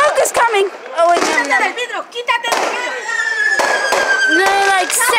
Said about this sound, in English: if you are doing fireworks, come on. This one's it.